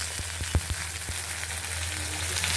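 Dried shrimp with chopped onion and salt frying in a pan give a steady, close sizzle with a few soft clicks of stirring near the start, and no one speaks.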